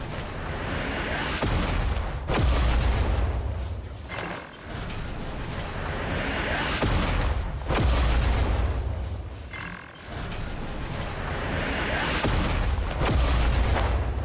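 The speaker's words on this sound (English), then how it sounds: "That's a positron cannon" A positron cannon fires repeatedly in a video game, heavy booming and mechanical whirring blasts recurring about every five seconds, loud and sustained with brief dips between shots.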